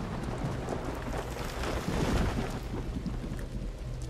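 Rain falls steadily in the Monochroma video game, a dense, loud hiss with low rumbling underneath and no speech.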